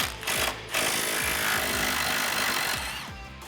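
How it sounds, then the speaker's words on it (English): A 15mm wrench and 18mm deep socket loosening rear shock bolts on a Jeep Wrangler TJ during a lift kit install, giving dense metallic ratcheting and grinding with rhythmic clicks, close and loud, without talk. "So now we can remove our rear shock. I'm using a 15mm wrench and an 18mm deep socket."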